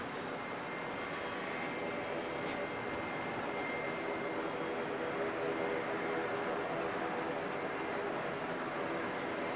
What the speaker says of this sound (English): It's Qantas 141 coming in from Sydney